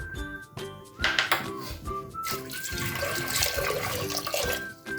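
About 300 grams of potatoes are washed in running water, splashing and trickling steadily over several seconds, with background music playing throughout.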